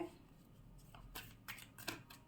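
Tarot cards are drawn and shuffled in several soft, quick flicks and riffles, close and quiet, with no talk.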